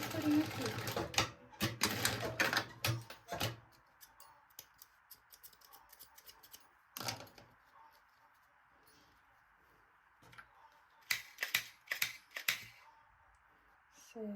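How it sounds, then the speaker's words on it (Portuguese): A sewing machine stitches a strap on a baby's backpack, the folded, heat-sealed edge tucked under. It runs in short, close bursts, then settles into a steadier, quieter whir, with some clicking handling noises nearby. "E a gente vai fazer uma costurinha aqui."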